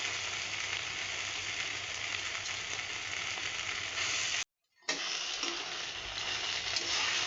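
Potatoes and soybeans sautéing in oil for aloo posto, giving a steady, even sizzle with faint stirring. It cuts out briefly to silence near the middle, then resumes.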